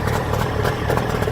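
A 2-stroke outboard boat motor runs while being flushed, giving a continuous close, rough idling rumble with a light mechanical clatter and no voices.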